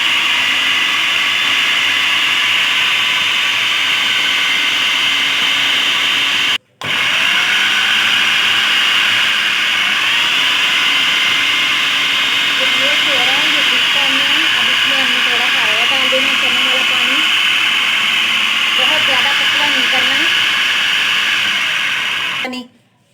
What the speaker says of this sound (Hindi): सारी चीज़ें चनों के साथ हमने फूड प्रोसेसर में डाल दिया। अब हम इसको चलाते हैं